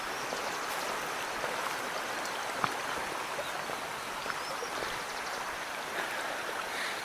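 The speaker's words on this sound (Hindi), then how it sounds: "ये जलधारा की बहने की आवाज कानों को प्रफुल्लित करती हुई" Mountain stream water flowing steadily along a trek route near Agastyamuni in Rudraprayag, a continuous broadband rush and gurgle with a few brief splashes, with no voices.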